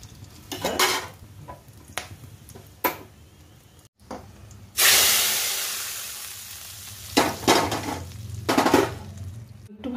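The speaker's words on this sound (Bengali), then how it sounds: "এখানে জিরে আর শুকনো লঙ্কা ফোড়নে দিয়েছি, এটা দিয়ে দেবো এবার উপর দিয়ে।" Hot cumin and dried chilli tempering is poured over sago khichdi. Scattered clinks of utensils and pans come first, then a sudden loud sizzle that fades slowly, with more metallic clatter afterward.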